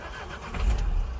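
A diesel car engine cranks and catches, a low rumble swelling up into a running engine, close by.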